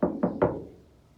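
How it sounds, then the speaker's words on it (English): Three quick knocks on the hollow metal body of a 2006 Chevy Silverado 1500 pickup truck, the last one loudest, ringing briefly and fading away; no voices. "knock on truck"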